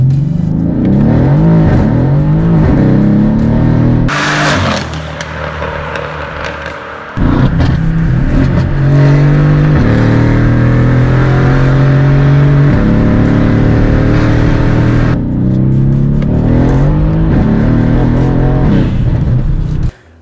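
A Mercedes C63 AMG with a straight pipe exhaust revs loudly and up close, with long rising and falling engine howls, a brief lull near idle, then more sustained revving, with no talking.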